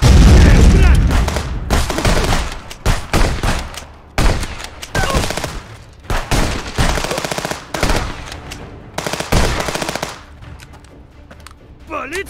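Repeated grenade blasts and bursts of automatic gunfire in the Contraband Police video game, loud and close, arriving in dense clusters with brief gaps between volleys, and a voice occasionally speaking underneath.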